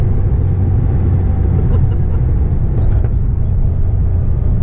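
A 300 kW Toyota GR Yaris rally-edition street car with a sequential gearbox drives along, its engine and road noise a loud, steady low drone heard from inside the cabin.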